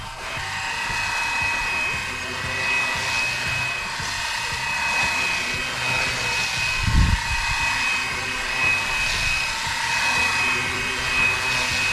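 A Flywing BO 105 GPS RC helicopter hovers nearby with a steady high-pitched motor whine and rotor hum throughout, a brief low thump in the middle as it sets down.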